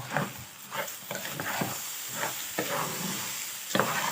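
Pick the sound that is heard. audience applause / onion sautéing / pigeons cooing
onion sautéing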